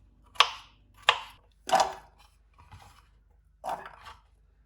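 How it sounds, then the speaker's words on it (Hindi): A knife cuts through potatoes on a board, giving about five sharp, separate chopping thuds at an uneven pace, close and clear with quiet gaps between them. "अब यहाँ पे आलू की कटिंग करेंगे।"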